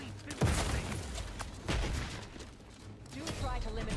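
Gunfire in the sci-fi shooter Outer Worlds 2 during a live combat encounter, a scatter of sharp shots and thuds over a constant busy game backdrop, with a voice speaking over the fight.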